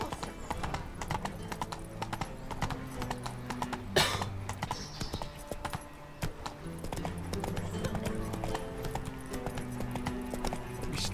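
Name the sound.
horse galloping in video game Witcher 3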